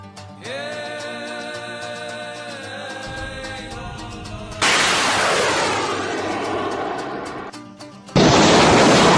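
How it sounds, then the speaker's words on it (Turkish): A loud Cirit missile blast erupts, followed by a long roaring rumble, then a second sharp explosion bursts in near the end after a rising whine. "Gördüğünüz gibi füze bütün gücüyle vurup büyük bir patlama yapmıştı."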